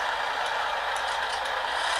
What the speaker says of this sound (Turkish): Frene basalım da şöyle hafiften.